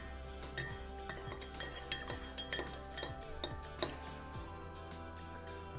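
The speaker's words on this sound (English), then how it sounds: "So I will stir this up." A spoon stirring milk and sugar into coffee in a cup, quick repeated light clinks against the sides, quiet and close, over a low steady hum.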